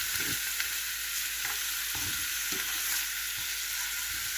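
Peppers and onion fry in a pan with a steady, close sizzle, broken by occasional stirring scrapes and clinks throughout.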